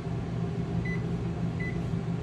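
Microwave oven in a 2019 Forest River Salem Hemisphere GLX 286RL travel trailer, giving two short electronic beeps about a second apart while its clock is set, over a steady hum with no talking.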